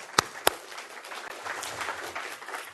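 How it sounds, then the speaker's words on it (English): Conference audience giving a round of applause after opening remarks, two sharp early claps followed by a soft, fairly distant, steady spread of clapping. "So, everyone, round of applause."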